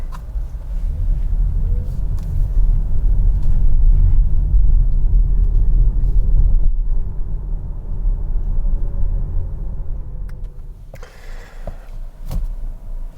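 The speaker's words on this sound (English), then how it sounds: "that's our short drive in the Polestar 2" A Polestar 2 electric car on a short drive in New Zealand gives off a steady low road rumble and tyre roar, with a few faint clicks and creaks from the cabin near the end.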